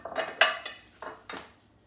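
A utensil clinks and scrapes against a bowl in a few quick, close strokes while apple crisp ingredients, apples included, are mixed together.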